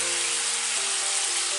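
Mushrooms cooking with a splash of white wine sizzle in a pan, a steady close hiss of broadband frying noise with no talk over it.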